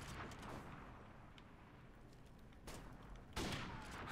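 Gunfire rattles in the first-person shooter Modern Warfare Remastered during a 1v1 match, a dense, continuous crackle of distant shots with two louder bursts near the end, no voices.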